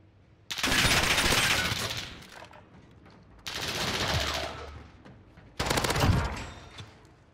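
SMG fire in Call of Duty: Modern Warfare comes in three loud, sustained automatic bursts separated by short pauses, close and dominant with no talking.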